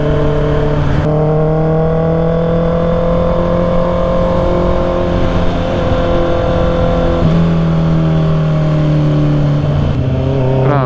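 A Honda CB650R with E-clutch rides through city traffic, its engine a loud steady drone with sustained tonal harmonics that dip and rise slightly as the rider eases through.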